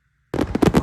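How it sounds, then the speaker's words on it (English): Fireworks at a free outdoor community event crackle and pop in a rapid burst of loud, overlapping bangs after a moment of near silence. "you see the fireworks there"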